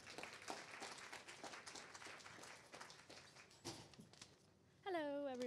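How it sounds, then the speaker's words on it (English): Audience applause for Jenna, a marine mammal trainer, at an aquarium: a steady wash of clapping from a crowd for about five seconds, then it fades as a voice begins speaking. "Can everyone give a warm round of applause to Jenna?"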